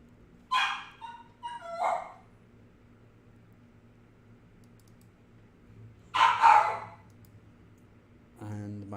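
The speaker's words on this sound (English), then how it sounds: "my dog is unhappy that the wife went out" A dog whimpers and yips in short bursts, with a louder bark-like cry around the middle and a final sound at the end, all indoors over a steady low hum.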